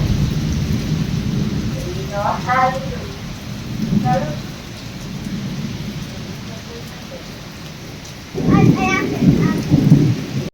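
Steady heavy rain with low rumbles of thunder swelling and fading, a louder roll near the end, and faint distant voices in the background.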